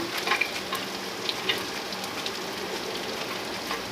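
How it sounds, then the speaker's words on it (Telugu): Onions and green chillies fry in a pan for veg manchurian, giving a steady, soft crackling sizzle with a few brighter pops and faint stirring, close by and moderately quiet, with no voices. "ఎర్రగడ్డ కూడా కొద్దిసేపు వేగించుకోవాలి"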